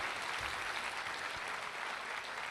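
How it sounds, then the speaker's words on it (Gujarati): An audience at a motivational speech event applauds, a dense, even wash of clapping from many hands that holds steady at a moderate distance throughout. "તમામે તમામ મેમ્બર્સ માટે તમારા તરફથી એકવાર જોરદાર તાળીઓ થઈ જાય"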